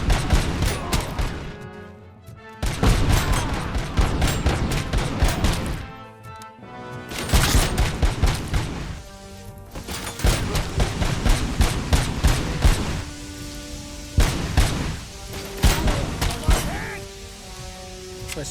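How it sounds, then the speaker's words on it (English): Rapid gunfire in RoboCop: Rogue City, loud and close, with bursts of shots bouncing off walls in dense volleys and brief pauses between them, while someone talks underneath. "it's really fun to be able to just shoot at the wall and have it bounce"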